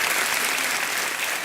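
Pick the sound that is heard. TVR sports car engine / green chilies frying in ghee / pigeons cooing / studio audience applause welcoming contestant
studio audience applause welcoming contestant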